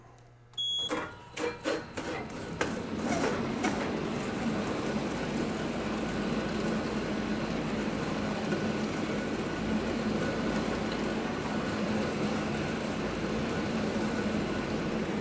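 Handle It Model 1200UL pallet wrapping machine running its top sheet cycle: a few clunks and clicks as it starts, then a continuous even mechanical whir with a thin whine that holds steady to the end.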